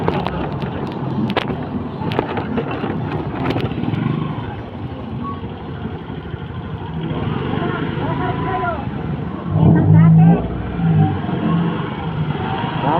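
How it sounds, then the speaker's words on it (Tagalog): Busy road traffic near a beach at San Fabian, Pangasinan, with steady car and motorcycle engines passing close and a louder vehicle surging by, under faint voices. "Traffic."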